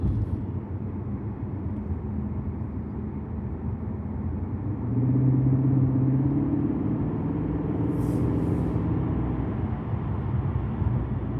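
Lexus IS500 sedan cruising on the road in normal mode, a steady low engine and road rumble heard from inside the cabin, fairly quiet and even with a slight swell partway through.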